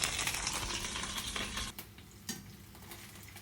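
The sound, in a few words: steak fillet frying on herbs in hot oil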